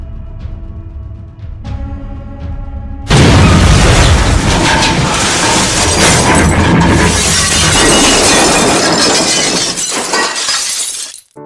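In the Trainz video game, a train derails and crashes: a few clanking tones, then a sudden loud burst of smashing, shattering and rumbling debris that roars on for several seconds before cutting off.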